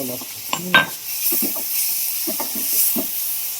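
Masala-coated food fries in a pan, a steady hiss of sizzling with scattered clicks and scrapes of stirring, close and moderately loud, with no talking.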